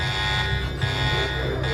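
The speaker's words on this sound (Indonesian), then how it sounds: "Alarm pun akhirnya berbunyi." Steady, loud electronic alarm buzzing continuously in a film scene, a harsh sustained drone holding at one level with no pauses throughout.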